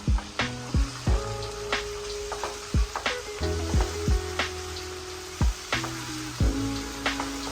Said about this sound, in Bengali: হালকা একটু ফ্রাই করে নেব, কাঁচা গন্ধটা যাওয়া পর্যন্ত।